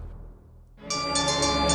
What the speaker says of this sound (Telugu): ఇదిగో మళ్ళీ మీ అమ్మ ఫోన్ చేస్తుందిరా.